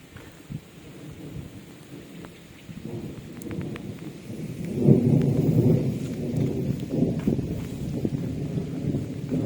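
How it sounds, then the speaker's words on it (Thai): Heavy rain pours steadily while deep thunder rumbles and swells through the middle, building to a loud, sustained roar with no voices. "ฝนเริ่มแรงแล้วพี่น้อง"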